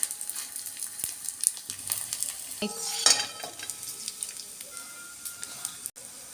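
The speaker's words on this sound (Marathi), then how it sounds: "याचप्रमाणे बाकीचाही सर्व डिंक मी इथे तळून घेते" Edible gum (dink) fries in hot oil for laddoos, a crackling sizzle with frequent stirring scrapes and spoon clinks, close and moderately loud.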